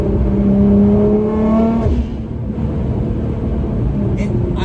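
Nissan GT-R accelerating hard on a short straightaway, its engine note rising loudly and steadily through the first two seconds, then easing into a steady, lower rumble.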